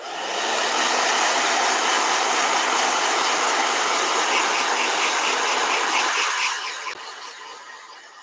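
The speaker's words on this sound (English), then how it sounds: "Blow dryer." A blow dryer runs loud and steady at close range with a dense, even whoosh, then its level drops in the final seconds. No one speaks.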